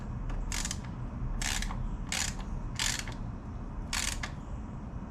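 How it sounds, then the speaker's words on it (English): A ratchet wrench snugs a bolt on a DRW chain slide fitted to a 2006 Yamaha Raptor 700 ATV: five bursts of rapid clicking at an even pace, close and clear over a steady low background hum. "Pop the wrench on. Just get it snug."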